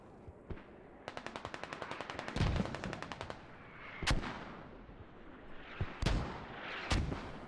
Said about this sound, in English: Oh, very good mortar hit there